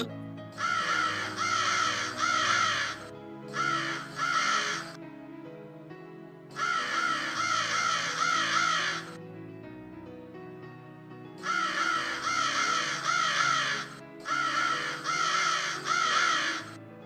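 A cartoon crow caws in loud, repeated bursts of harsh calls, separated by short pauses, with only faint sound between them.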